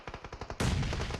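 Gunfire in the PUBG Mobile battle royale game during an esports grand final: a quick burst of evenly spaced automatic shots, then a loud, sustained blast of overlapping fire, close and intense.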